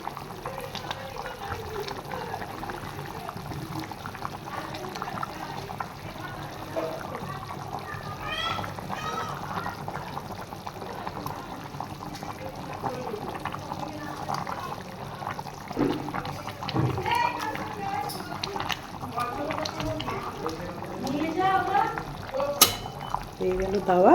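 Pieces of bhola fish slipped into a pot of boiling curry broth, giving soft splashes and a steady bubbling simmer under busy, noisy household background.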